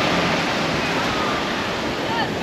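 Big waves break on the beach at Kélibia, Tunisia, making a steady, broad surf roar with some wind rush, close and loud without pause.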